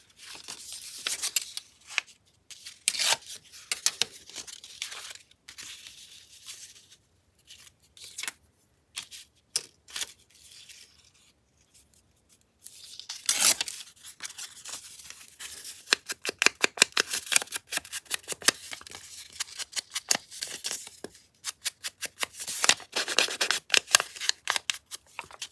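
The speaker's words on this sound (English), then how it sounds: "when you're chopping up your paper" Scissors snip and paper crinkles and tears in irregular bursts close by, with quiet pauses between clusters of cuts.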